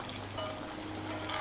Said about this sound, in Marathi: आता तेल पण खळवळला.